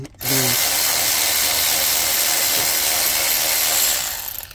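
A power tool loosens an inverted Torx bolt on the engine cooling line of a Mercedes S550 W222 with the M278 engine, giving one close, continuous whirring burst of about four seconds.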